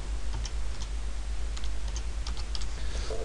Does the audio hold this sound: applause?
no